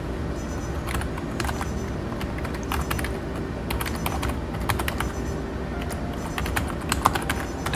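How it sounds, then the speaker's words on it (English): Keys clattering on a Furuno Felcom 18 Inmarsat-C terminal keyboard while a message is typed, in quick irregular bursts of close, crisp clicks over a steady low background hum. "type your message."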